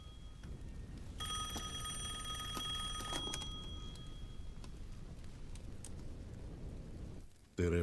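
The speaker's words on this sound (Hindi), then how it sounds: "वो फोन है।" A telephone bell rings in a steady trill for a couple of seconds, then fades into a low rumbling background with a brief loud burst at the end.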